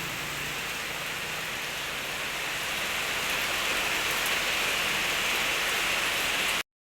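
Steady heavy rain pours down in a dense, even hiss that carries on unchanged until the sound cuts off abruptly, with no voices.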